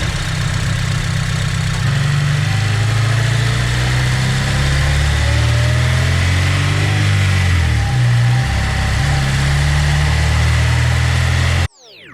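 A VTEC car engine idling, recorded up close from a camera mounted inside the engine bay: a loud, steady mechanical drone with a slight dip in pitch midway, then cutting off abruptly at the end.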